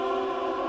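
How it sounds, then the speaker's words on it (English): Wailing siren call from the Siren Head horror video game, a loud, sustained droning tone with layered harmonics, heard alone in a short burst. "Oh my gosh, siren."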